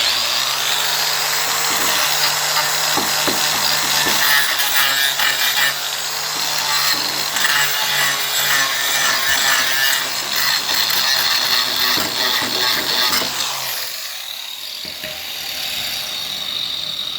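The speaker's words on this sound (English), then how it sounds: "All I want is to scuff the oils and the paints and get down to a little bit of wood." A tile tool scrapes continuously and loudly over painted, oily wood on a cat-door repair, a rough, gritty scuffing with rapid strokes that persists for about thirteen seconds before easing into quieter handling.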